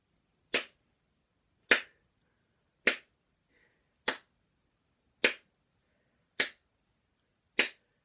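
Seven sharp, evenly spaced hand claps ring out alone at a slow, steady beat, each a crisp isolated smack with silence between.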